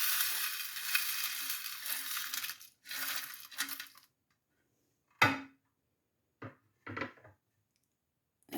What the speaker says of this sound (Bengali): এগুলোকে এখন আমি হালকা আঁচে ভেজে নিব